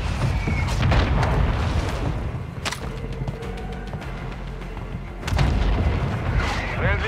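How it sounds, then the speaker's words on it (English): Booming airstrike explosions in Call of Duty: Warzone 2.0 Resurgence rumble loudly and continuously, with a fresh heavy blast surge near the end, while a voice speaks over the bombardment. "Friendly airstrike in the AO."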